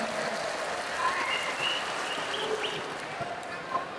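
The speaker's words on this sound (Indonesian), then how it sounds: "Mana tepuk tangannya?" An audience applauding during a ministerial speech, a dense wash of clapping at moderate distance with a voice speaking over it.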